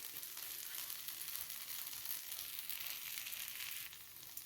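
Aloo bread cutlets fry in refined oil with a dense, continuous hiss and crackle, steady and fairly faint throughout, no voices.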